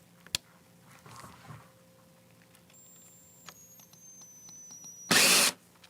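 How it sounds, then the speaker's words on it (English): A power drill drives a screw while a Bafang BBSHD e-bike mid-drive motor is being installed, a short, loud burst of whirring near the end after faint clicks and quiet handling noises. "the drill's on all the way too"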